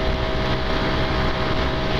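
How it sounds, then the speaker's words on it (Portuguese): A steady, loud Honda Pop 110 motorcycle engine drone with a constant rumbling tone, running at high revs without pause. "o motor começa a fazer um barulho um pouquinho mais alto"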